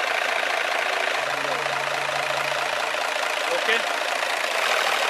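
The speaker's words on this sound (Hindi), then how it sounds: "इंजन हिल रहा है, इंजन वाइब्रेशन कर रहा है।" A truck's diesel engine idles with a steady, loud rumble and a vibrating, slightly knocking drone throughout, while someone speaks briefly over it.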